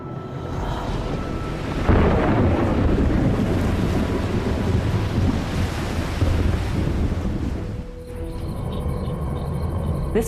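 Ocean surf on a water world planet rolls in as a continuous broad wash, swelling at about two seconds, easing toward eight, then returning, with a thin high insect-like chirr near the end.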